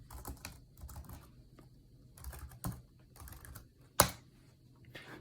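Computer keyboard keys clack in short irregular bursts with pauses between them, one sharp louder keystroke standing out near the end, close and dry in a quiet room.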